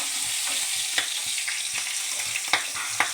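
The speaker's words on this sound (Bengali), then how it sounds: "আর মাছের মাথাগুলো ভেজে নিচ্ছি মাথাগুলো প্রায় ভাজা হয়ে গেছে" Steady sizzling of catla fish heads frying in hot oil, with occasional sharp pops and crackles, close and continuous, no talking.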